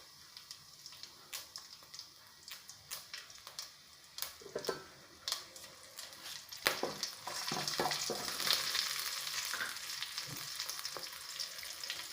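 Mustard seeds, cumin and green chillies frying in hot oil, with scattered crisp pops and crackles at first that build into a dense, steady sizzle, near and loud, with no talk.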